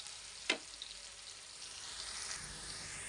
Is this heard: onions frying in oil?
yes